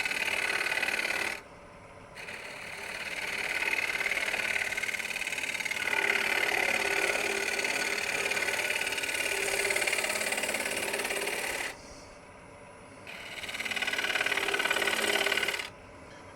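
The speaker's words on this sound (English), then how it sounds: "We're just going to cut a shallow tenon." A wood lathe cuts a shallow tenon in a wooden bowl, with the hiss and rasp of the tool against spinning wood coming in steady bursts and short pauses between passes.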